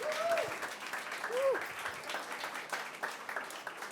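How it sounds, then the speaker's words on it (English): Audience applause for a panel's speakers at an NFT conference in New York, a fairly quiet patter of clapping throughout, with brief voices breaking through near the start. "A round of applause for our panelists."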